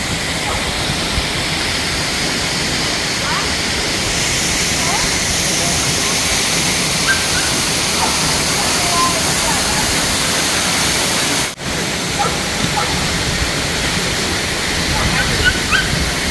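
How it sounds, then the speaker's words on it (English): A waterfall at Dinkey Creek roars as a constant, dense wash of water noise, loud and unbroken throughout, with faint scattered sounds over it. "Are you guys going to the waterfall?"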